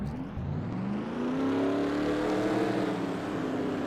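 Race car engines from NASCAR Racing 2003, at a Chili Bowl Nationals dirt race, rev up together in a rising, droning roar that holds loud and steady.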